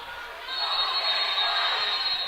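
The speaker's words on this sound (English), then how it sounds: "And the crowd's into it now" A crowd at a girls' high school basketball regional game roars into sustained cheering and yelling after a brief quieter moment, a broad wash of noise.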